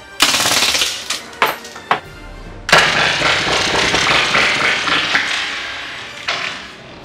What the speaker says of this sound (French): parce que lui aussi tire en rafale.